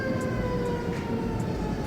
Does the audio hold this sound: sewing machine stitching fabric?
no